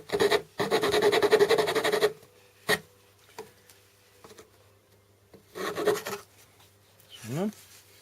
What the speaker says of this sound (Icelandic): og saga í gegnum þessar festingar